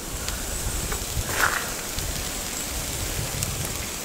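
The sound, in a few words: rain falling on leaves outdoors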